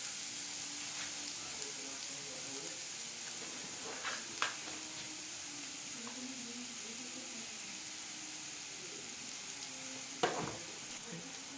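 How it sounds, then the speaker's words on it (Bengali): Onion and garlic fry in a wok with a soft, steady sizzle, broken by a couple of sharp clinks of a spatula stirring against the pan. "কড়াইতে পেঁয়াজ আর রসুনটা ভাজতে দিয়েছি, তাই এটা একটু ভাজা ভাজা হোক।"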